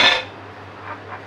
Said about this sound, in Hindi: हम इसके अंदर गोश्त डालेंगे जो हमने लिया है